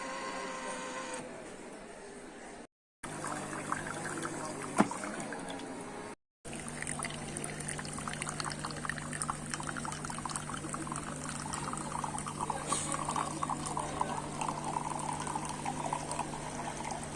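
Water pours steadily into the tank of a Beko CC6000 series coffee machine for a sustained stretch, a continuous splashing trickle heard close and alone after a couple of brief handling clicks and pauses.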